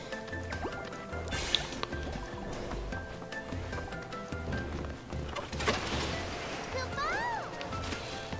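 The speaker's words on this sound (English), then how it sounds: "Oops, I did not mean to go in the water." Character wading into water in the video game Final Fantasy VII Rebirth: soft sloshing and liquid splashes layered with game music and chiming effects, with a person talking over it.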